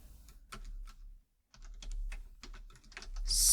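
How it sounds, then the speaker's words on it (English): Quick bursts of keyboard typing as a product review is written, light irregular clicks with a short pause in the middle, close and fairly quiet with no talk. "Then we can type out our review."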